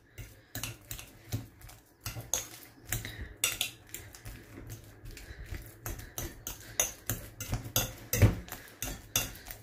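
Ripe banana pieces mashed with a fork in a bowl, a steady run of quick, close tapping and clicking strokes that hit the bowl again and again, with brief pauses between bursts.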